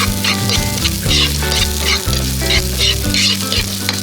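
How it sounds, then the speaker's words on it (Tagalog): Onions and garlic sauté in a pan for lechon balbacua, a continuous bright sizzle with stirring scrapes, loud and steady throughout over a tonal musical backing, no voices. "palagigisa ako, inuuna ko talaga yung sibuyas"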